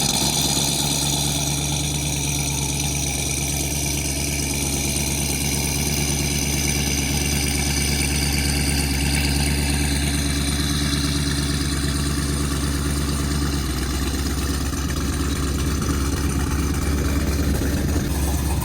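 Chevrolet Corvette ZR1 idling with the exhaust valves closed, a steady, muted low rumble that holds evenly throughout with no revs and no talking.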